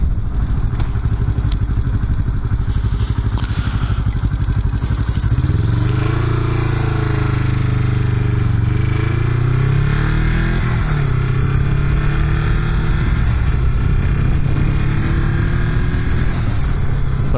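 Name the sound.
Honda CB350 motorcycle engine revving at wide open throttle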